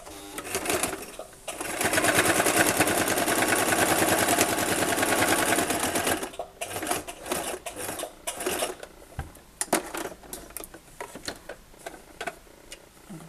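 A domestic sewing machine runs a straight seam on a washable wipes basket, a steady rapid mechanical chatter for several seconds, then stops and gives way to clicks, handling noises and short stop-start bursts of stitching.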